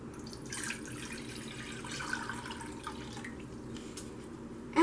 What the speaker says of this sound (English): Then, put the water inside the pot.